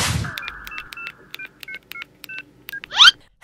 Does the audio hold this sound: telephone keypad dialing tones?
yes